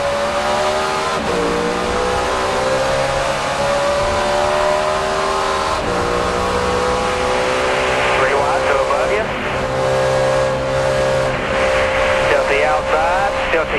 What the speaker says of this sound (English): you could hear him playing with that throttle all the way through one and two